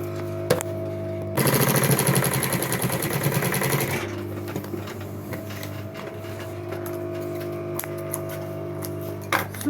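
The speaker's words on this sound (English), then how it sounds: "So now we are going to top stitch it." A sewing machine top stitches a padded handbag, running in one close, steady rapid-stitching burst of about three seconds before falling quiet, with a low hum underneath.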